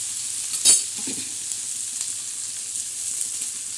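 Bombay duck fish frying on a tawa gives a steady, close sizzle throughout, with a brief louder crackle and clatter near the start, then an even, bright hiss.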